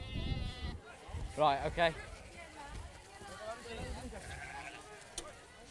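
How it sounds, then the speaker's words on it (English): Sheep bleat in a brief pair of loud calls early on, set in an outdoor farm scene during an ice storm, with someone talking around them and background noise throughout. "That one that looked like a lamb was actually a sheep"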